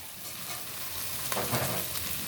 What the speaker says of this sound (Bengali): আলু আর সাজনাগুলো ভালো করে ভেজে নিব